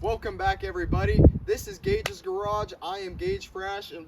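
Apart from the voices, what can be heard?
No everyday noise stands out behind the speech.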